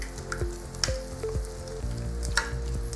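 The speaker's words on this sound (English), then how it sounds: "Just want to make sure they're getting cooked evenly, so just go ahead and stir them up pretty good." Food sizzles in a hot pan while a utensil stirs it repeatedly, with rhythmic scraping knocks several times a second over a constant frying hiss, close and fairly loud.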